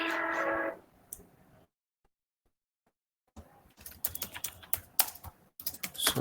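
Close, quiet clatter of computer keyboard typing, irregular bursts of keystrokes after a brief muffled noise and a short silent pause, with no speech.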